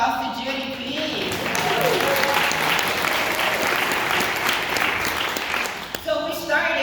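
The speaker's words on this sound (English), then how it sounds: "Big round of applause to Judy, please" An audience at a single-payer healthcare plenary breaks into loud, sustained applause that swells and carries on for several seconds before tapering off.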